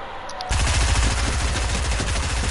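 Rapid automatic gunfire in a video game, breaking in sharply after a short quiet moment and then continuing as a dense, loud, close burst of rattling shots with no voices.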